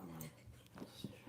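Dogs named Milo and Ricky whimper and whine indoors, with breathy panting and a few short yips rising toward the end, close to the listener.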